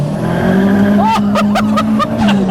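A 360 bhp Ford Escort Mk6 with a swapped-in Focus RS engine pulls hard on a road, its engine droning loudly and steadily with rising whistly harmonics of boost and revs, heard from inside the car.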